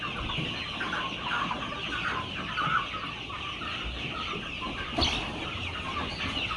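Chickens cluck steadily on a poultry and egg-laying farm, a continuous near chorus of hens with a brief louder squawk standing out midway, no talk over it.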